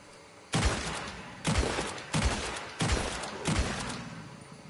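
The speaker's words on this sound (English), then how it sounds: "5 shots with the volcano pistols" Five heavy pistol shots from the volcanic pistol in Red Dead Redemption 2, each a loud booming crack with a short decaying tail, spaced roughly a second apart with no talk over them.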